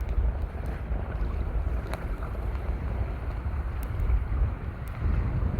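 Strong wind buffets the microphone over choppy water in a bay while out in a kayak, a steady low roar with occasional splashes and no talking.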